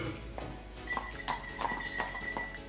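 Horses pull electric-assisted carriages through a mountain ski resort street, hooves clip-clopping in a steady, moderately near rhythm over a low rumbling background.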